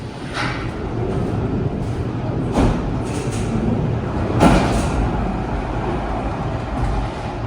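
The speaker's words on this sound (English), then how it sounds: "This train leaves without me." A Swiss mountain train departs the station at Kandersteg, a steady loud rumble and rolling hum with a couple of sharp clanks along the way, no voices.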